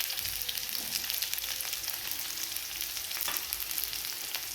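Vertically sliced onion frying in oil in a pan for a sprouted-bean usal, giving a steady close sizzle with faint crackle and no voices.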